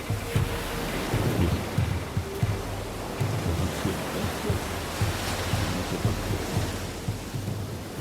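Waves break against the rusting starboard hull of a shipwreck off the Tunisian coast, a steady, loud, rolling wash of surf with low rumbling surges throughout and no voices.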